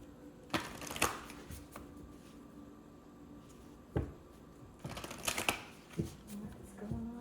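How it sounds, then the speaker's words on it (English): Tarot cards being shuffled by hand in a quiet room, with several bursts of riffling and soft slapping separated by pauses, close and moderately quiet. "One more shuffle. Sorry, two more."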